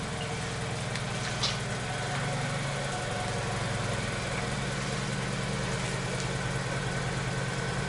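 A car engine idles steadily in a garage while warming up to operating temperature, giving a faint, even low rumble with no talking.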